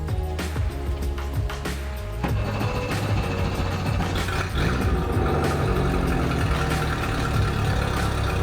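An old bass boat's outboard engine starts up and keeps running steadily, a loud, continuous mechanical rumble with no talk.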